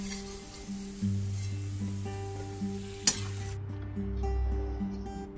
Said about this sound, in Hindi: किशमिश को भी तल लेंगे। किशमिश में अगर कोई डंडी हो तो उसे आप निकाल दें। हल्का सा इसे तलेंगे हम।